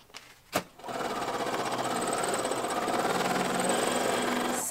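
After a couple of small clicks, a sewing machine starts stitching through holographic window decal film and runs in a steady, close, rapid mechanical whir until the end.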